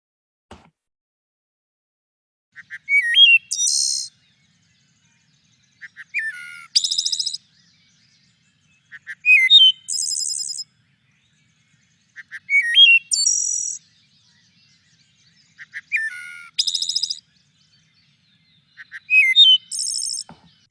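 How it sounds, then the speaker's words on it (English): Wood thrush song repeats about six times in a steady rhythm, each phrase opening with low fluting notes and ending in a bright, buzzy trill of two simultaneous pitches, clear and alone against silence. "here's an example of a wood thrush singing and duetting"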